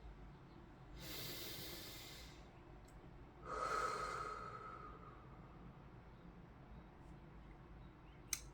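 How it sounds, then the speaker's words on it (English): A slow, deep breath drawn in and then let out in a quiet room, soft and close, with long airy rushes and no talking. "We're going to take a nice deep breath in the highest vibration of love."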